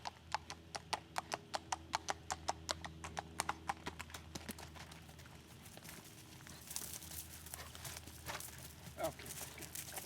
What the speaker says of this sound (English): Such a beautiful horse.